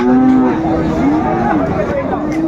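A Sahiwal cow at a cattle market in Sylhet lets out a loud, close moo lasting about half a second, followed by a busy background of crowd chatter and other livestock.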